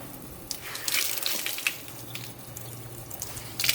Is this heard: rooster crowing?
no